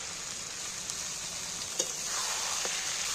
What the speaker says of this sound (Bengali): দেখো একবারে আমি পেঁয়াজ রসুন মাংস সব একসাথে নাকা চাকা করে এইবার আমি ভালো করে কষিয়ে নেব।